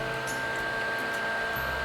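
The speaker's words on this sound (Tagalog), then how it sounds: "Electric fan ulit. To the rescue." An electric fan blows steadily at close range to dry face primer during makeup, a constant airy whoosh with a faint motor hum that holds unchanged throughout.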